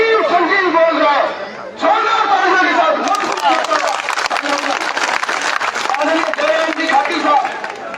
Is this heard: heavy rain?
no